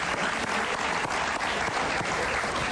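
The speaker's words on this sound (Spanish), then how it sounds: "Un aplauso para Silvia, ¿no?" Sustained applause from an audience during a Spanish-language talk show, a dense, steady clapping that fills the whole stretch at an even, close level.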